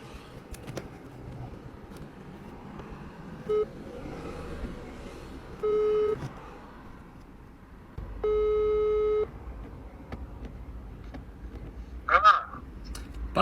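An unanswered phone call gives a few spaced ringback beeps, each lasting about a second, over a quiet, faintly noisy background.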